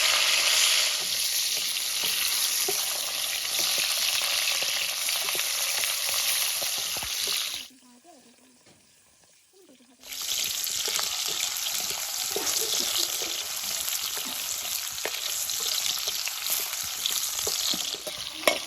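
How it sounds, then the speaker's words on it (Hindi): Mushrooms fry in a smoking-hot pan for a Kashmiri Wazwan-style dish, giving a loud, continuous sizzle that drops out briefly for about two seconds and then resumes just as strongly. "और ये जो मशरूम्स हैं इनको हम अच्छे से फ्राई कर लेंगे।"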